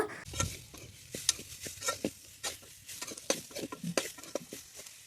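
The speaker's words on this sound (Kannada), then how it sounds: "ನುಗ್ಗೆಕಾಯಿ ಹಾಕ್ಕೊಂಡ್ಬಿಟ್ಟು ಚೆನ್ನಾಗಿ ಮಿಕ್ಸ್ ಮಾಡ್ಕೊಳ್ತಾ ಫ್ರೈ ಮಾಡ್ಕೊಳ್ಬೇಕು" Steady scraping and stirring of drumstick pieces frying in a pan with a soft sizzle underneath, irregular clinks of a spoon against metal, no voices.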